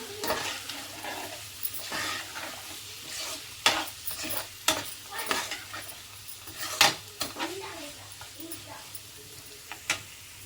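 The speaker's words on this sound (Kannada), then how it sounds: "ಈಗ ಮಿಕ್ಸ್ ಮಾಡ್ಕೊಳ್ಳೋಣ" Tomato sauce and red chilli sauce are stirred together in a pan, with a spoon scraping and clinking over a steady sizzle and a voice talking now and then.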